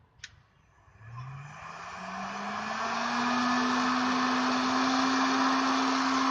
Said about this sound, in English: you start to hear the motor and the fan spinning up